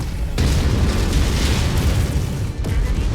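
An ammo cook-off explodes on a mech in a video game, a loud, continuous, dense roaring boom of blast noise lasting a few seconds, with a brief dip near the end.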